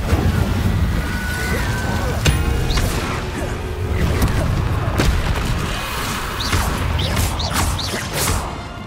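The Incendio fire spell is cast during Hogwarts Legacy combat, a loud run of whooshing bursts and heavy booms layered over continuous game action.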